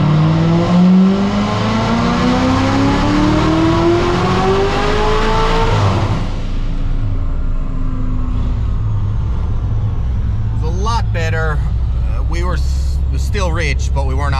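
C7 Corvette engine revving up on a dyno pull, a loud climbing roar that peaks and cuts off after about six seconds, leaving mechanical whirring as a voice speaks.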